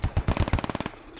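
A DShK heavy machine gun in the game Squad fires a rapid burst of about ten heavy, booming shots, fairly loud and then cutting off with a short tail.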